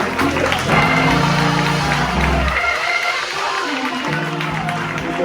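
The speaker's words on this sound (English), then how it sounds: "Come on, clap your hands" A church congregation at a 2019 prayer gathering clapping their hands, a dense, loud wash of clapping over music, continuous throughout.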